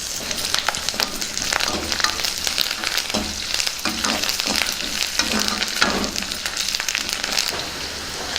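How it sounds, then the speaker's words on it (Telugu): Dried red chillies and curry leaves fry in hot oil with garlic for a mudda pappu tempering. A steady crackling sizzle runs throughout, broken by stirring scrapes, with no speech. "వీటిని కూడా బాగా వేయించుకుందాం. ఇందులోనే ఎండుమిర్చి వేసుకుందాం. అలాగే కరివేపాకు వేసుకుందాం."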